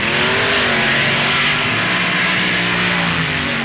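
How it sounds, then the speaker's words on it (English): Drag racing at the 1969 NHRA US Nationals, with Don Schumacher's Barracuda against Bruce Larson's car: a loud, sustained engine roar with rising harmonic tones as the cars launch and charge down the strip. "Schumacher's engine expires while Larson charges to a great 735, 192-mile-per-hour wind, and the crowd loves it."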